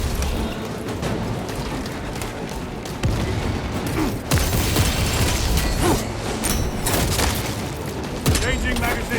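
Space Marine 2 combat: a mechanical weapon reload clatters amid heavy bursts of gunfire and a frag grenade booming, dense and loud with sharp metallic clicks and thumps, with a voice talking through parts of it.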